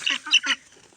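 Ducks give three quick, nasal quacks close by in a rapid burst, then go quiet.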